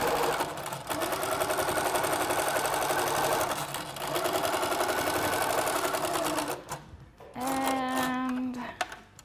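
A sewing machine stitches quilted fabric in close, loud runs of rapid stitching, broken by brief pauses for pivoting, then a final short burst with a rising whine.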